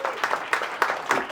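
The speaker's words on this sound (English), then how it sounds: "Can I have an applause, please?" Short burst of audience applause at a Dubai Watch Week 2025 event for a guest on stage, steady clapping from a small crowd over 1.4 seconds with a faint voice at its edges.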